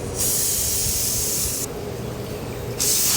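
Steam hissing steadily from a pressure cooker on a gas stove while dal, potatoes and rice cook, a broad continuous hiss that swells louder at the start and again near the end, with no voices.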